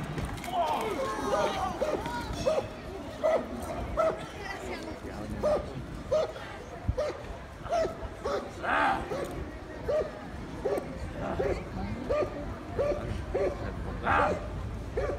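A police dog barks in a steady run of sharp, repeated barks, close by, during a police training exercise, over a noisy scene with people talking and shouting underneath.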